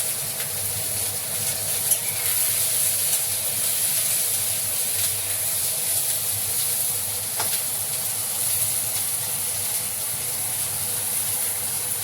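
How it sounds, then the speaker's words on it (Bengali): Onions fry in a pan, producing a continuous, even sizzle and hiss of hot oil with occasional faint crackles, heard alone without any voices. "পেঁয়াজটা বেশি ভাজবো না, ভাজা করে দিয়ে তারপরে মশলাটা দিয়ে দেবো।"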